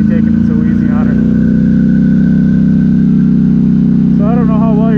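A Polaris Sportsman 1000XP ATV with a new engine runs at a loud, steady idle, a constant deep drone from engine and exhaust close by while someone talks over it.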